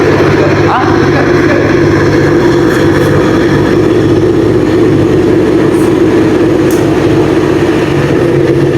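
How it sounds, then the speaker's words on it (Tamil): Stock exhaust of a KTM RC 390 motorcycle idling nearby, a loud steady droning engine note that holds level throughout with no revving, under faint background noise. "ஸ்டாக்ல வர எக்ஸாஸ்ட் நோட் எப்படி இருக்குன்னு பாருங்களேன்"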